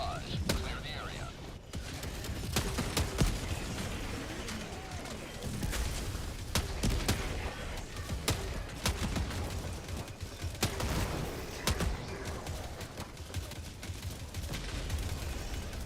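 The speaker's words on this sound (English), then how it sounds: "Firing orbital barrage." Orbital barrage strike in a video game: a steady rain of sharp, loud impact cracks and blasts over a rumbling low bed, a voice talking underneath.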